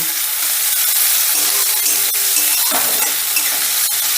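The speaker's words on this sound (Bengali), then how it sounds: "এবারে পেঁয়াজটাকে হালকা করে ভেজে নেব" Chopped onion, one large onion finely cut, fries lightly in hot oil for a lentil dish with pumpkin stems, giving a steady close sizzle with occasional stirring scrapes and clinks throughout.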